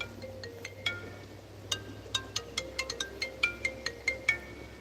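A phone rings at a creek during outdoor gold panning, a string of short electronic tone bursts repeating in a steady rhythm over faint background hiss, with no talk.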